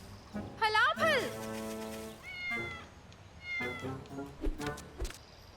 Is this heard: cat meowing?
yes